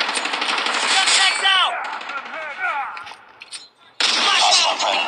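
Rapid automatic AK-47 fire in a Call of Duty match, loud and close in sustained bursts that break off briefly before resuming.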